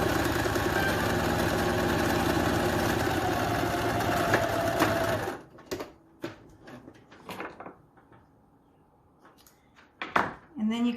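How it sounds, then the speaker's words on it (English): Sewing machine stitching a face mask seam, a steady mechanical whirr for about five seconds, then stopping and giving way to handling clicks and rustles nearby. "you're going to sew right along here"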